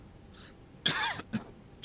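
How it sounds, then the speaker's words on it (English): A single harsh cough bursts out close to the microphone, followed by a brief throat-clearing rasp, loud against a quiet background with no talk. "Sorry about that cough, folks."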